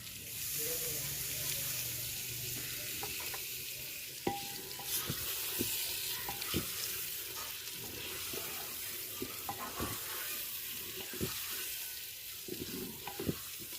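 Beef pieces frying in a pot in a village kitchen, a soft steady sizzle with scattered clinks and scrapes of stirring, fairly faint and close with no talk.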